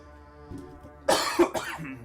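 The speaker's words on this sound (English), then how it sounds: "Got this damn cough" A couple of short, harsh coughs burst out one after another over a quiet background hum.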